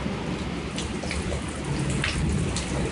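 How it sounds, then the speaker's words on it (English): Steady heavy rain pours during a supercell thunderstorm in Stockbridge, Georgia, with low rumbling thunder rolling underneath throughout, loud and close with no voices. "We still got a lot of thunder, but look at this."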